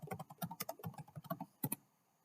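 Rapid typing on a computer keyboard, a close, steady run of crisp key clicks for about two seconds, ending in a couple of firmer strokes before falling quiet.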